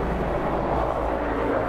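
Helicopters flying overhead make a steady, loud, low rumbling drone that fills the short moment without a break.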